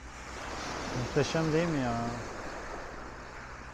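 Sea waves wash steadily at Cide beach on Turkey's Black Sea coast, a constant broadband surf heard under a man's short spoken remark.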